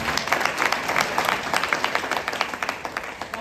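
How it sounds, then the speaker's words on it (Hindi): An audience at a Gurukul workshop in Lonavala applauds an award, a dense, steady wash of many hands clapping at moderate loudness for a few seconds. "तो तालियां होना चाहिए"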